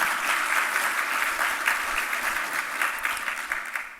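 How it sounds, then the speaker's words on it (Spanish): Steady, dense applause from an audience at a business event on climate action in Chile, sustained at an even level and tapering slightly at the close. "un aplauso a su gestión en esto"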